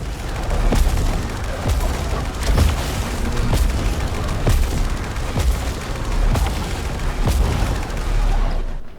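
A boss in the Returnal video game unleashes an expanding ring and slash attack, heard as a string of heavy booming impacts and bursts at a fairly regular rhythm over a dense, loud rumbling game soundscape.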